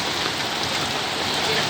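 Steady rain falls throughout, a dense, even hiss of drops on nearby surfaces with no pauses.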